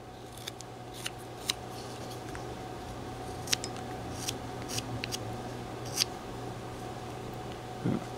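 Knife whittling a wooden caricature hound dog, with short, light scraping cuts scattered irregularly across several seconds over a steady low room hum.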